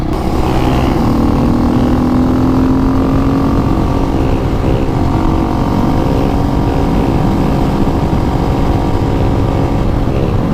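Supermoto motorcycle engine accelerating hard through a wheelie, a loud continuous droning roar with rising tones, close by and with no talking.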